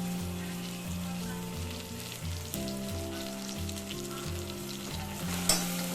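Ginger garlic paste frying with onions for tomato kurma gives a steady, close sizzle, with a sharp clatter near the end and no voices.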